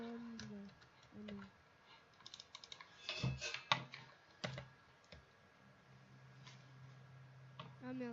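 Clicky computer keyboard typing during a Minecraft PvP session, quick bursts of keystrokes that cluster and pause, heard close and fairly quiet while a voice talks over parts of it.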